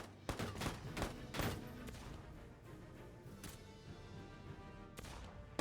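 Gunfire from the Valkyria Chronicles 4 video game, loud sharp shots with booming reverberant tails, a cluster early on and another blast near the end over a dense battle soundtrack.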